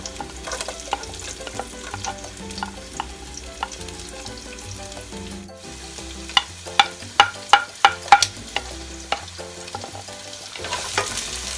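Onion fries in a pan with a steady close sizzle, punctuated by repeated metallic stirring knocks and scrapes, including a quick run of rhythmic taps partway through.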